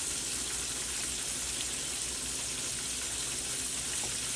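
Mushrooms and onions frying in a pan for a pork chop topping, a steady close sizzle and crackle running evenly throughout with no talk over it.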